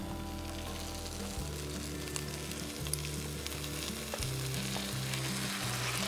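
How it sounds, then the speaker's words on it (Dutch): Rice and diced tomatoes sizzle steadily in a paella pan with chorizo and chicken, a dense continuous frying hiss broken by occasional scrapes of stirring, close up and without talk. "Hierdoorheen roer ik dan de tomatenblokjes."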